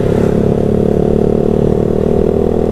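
A Honda Sonic motorcycle engine runs loud and close with a steady mechanical knocking clatter, its rapid ticking rhythm continuous throughout.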